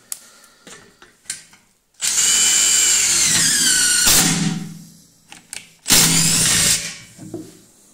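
A Makita DTD172 impact driver drives self-drilling screws into thin sheet metal in two loud, sustained bursts of whirring, hammering rotation, separated by short clicks and handling noises.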